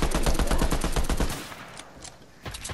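Rapid automatic gunfire in a squad-based video game, a fast loud rattle of shots for over a second before the rattle stops and a quieter tail follows, then one more short burst.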